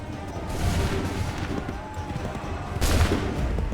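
A musket volley in Assassin's Creed 3 Remastered, a rumbling battle din with a big crackling burst of massed shots near the end, while voices shout orders.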